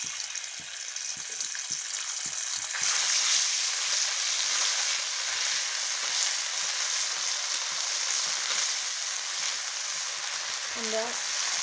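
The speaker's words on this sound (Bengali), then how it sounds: "এখন দিয়ে দিচ্ছি বেটে রাখা রসুন আর সরিষা বাটা।" Garlic and mustard paste frying in mustard oil in a frying pan, a steady broadband sizzle with crackling, louder after a few seconds, with faint scraping near the end.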